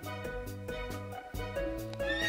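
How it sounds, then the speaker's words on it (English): A horse neighs clearly over a bouncy music backing, the whinny rising near the end as the melody continues. "Horse."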